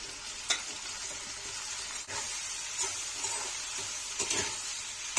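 Green bell pepper and onion stir-fry in a pan for a spicy chilli chicken dish, with a steady close sizzle broken by occasional scraping stir strokes.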